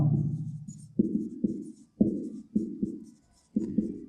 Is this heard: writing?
yes